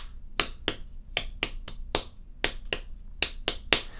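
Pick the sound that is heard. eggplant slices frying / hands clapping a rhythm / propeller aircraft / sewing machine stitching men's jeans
hands clapping a rhythm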